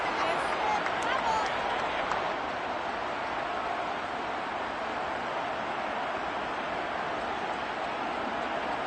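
Football stadium crowd applauds the defense, a broad steady wash of clapping and crowd noise heard from a distance, evenly sustained throughout.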